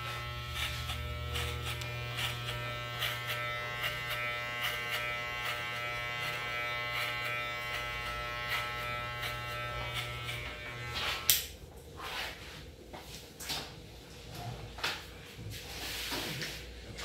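Electric hair clippers with a number 2 guard buzz steadily and close up while cutting a fade, a constant hum that stops partway through, followed by faint handling clicks.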